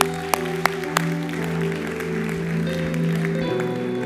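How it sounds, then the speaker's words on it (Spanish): Applause from a church congregation at a sermon, a broadband wash of clapping lasting several seconds over a sustained musical drone, with a few sharp claps standing out at the start. "¿Cuánto le puede dar un aplauso a Cristo?"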